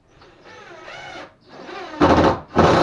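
A screw is driven into drywall during soffit removal and drywall work, heard as a steady tool whir that builds, then two loud grinding bursts at close range.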